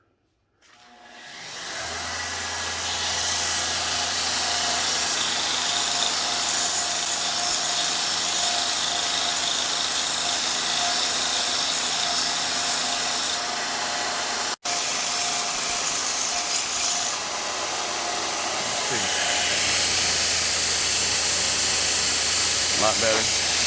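Needles of a needle scaler are sharpened against a grinding or sanding wheel, giving a steady loud whirring grind that runs almost the entire time with a brief break midway.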